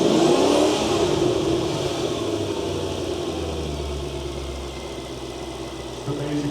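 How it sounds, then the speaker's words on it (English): A supercharged, modified Ford GT making 675 horsepower revs loudly up close, its engine note and supercharger whine climbing at first and then settling into a sustained, steady roar. "Get a supercharger winding up."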